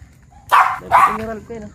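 Two loud, sharp dog barks close by at a gamefowl farm, then a softer whine, with a voice audible faintly in the background.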